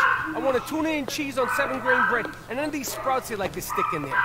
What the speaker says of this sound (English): Again, sorry about the dogs in the background.